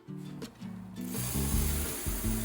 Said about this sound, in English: here I am crushing the uncrushed grain in my grain mill. It runs on a power drill there.